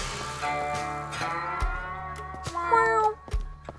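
Cartoonish cat meows from the adventure game Sushi Ben, several short tonal calls rising and falling over soft game music, with a brighter drawn-out meow near the end.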